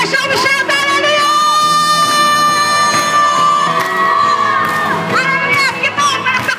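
A church congregation cheers and shouts through a lively worship service, a loud, continuous crowd roar with whoops and raised voices and a pitched tone ringing through; clapping is not clearly separable from the din.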